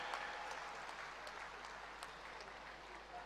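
Steady applause from a crowd at an honours ceremony for Tokyo Olympic athletes, dense clapping at a moderate level that continues evenly throughout without anyone speaking.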